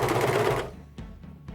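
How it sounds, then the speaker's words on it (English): A serger stitches two fabric edges together in a short, steady whir that stops partway through, followed by a few faint clicks and handling sounds. "And this is straightforward serging."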